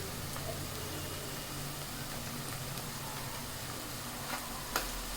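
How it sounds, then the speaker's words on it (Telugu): Turmeric frying in hot oil for a chicken curry, a steady soft sizzle held close and fairly quiet throughout, with a couple of faint taps near the end. "కొంచెం పచ్చివాసన పోయే వరకు వేయించుకోవాలి."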